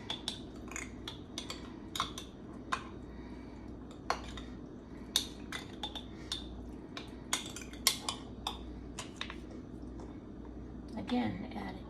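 Sliced bananas are stirred into a bowl of chia pudding with a spoon, making quiet, repeated clinks and soft wet taps in an irregular rhythm, fairly faint and close.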